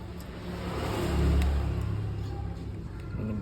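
A motorcycle fitted with a Juken ECU and a stock-style exhaust revs on a dyno, its engine note swelling to a loud peak and easing off into a steady mid-pitched drone.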